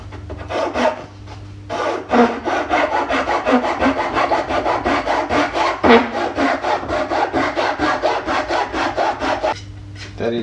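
A Japanese dozuki dovetail pull saw with a rigid back cuts through wood in a rapid, steady run of close, loud rasping strokes, with brief pauses at the start and end.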